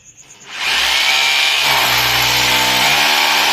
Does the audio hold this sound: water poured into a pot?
no